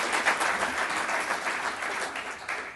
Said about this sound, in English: Walter, will you stand and give him a round of applause?